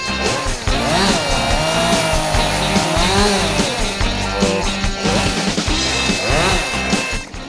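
A chainsaw runs loud and continuous nearby, its engine revving up and down as it carves into a block of wood, with no pause throughout.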